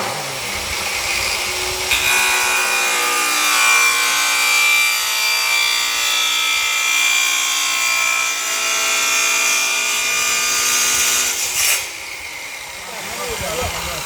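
A power drill whirs steadily at high speed for several seconds, then cuts off near the end, leaving quieter background noise.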